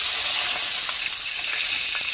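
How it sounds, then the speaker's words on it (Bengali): Potatoes frying in oil for a lau chingri (bottle gourd and prawn) curry, giving a steady, close, dense sizzle that holds evenly throughout with faint crackles and no voices. "এই তেলের সঙ্গে আমি আলুগুলো ভেজে নিচ্ছি"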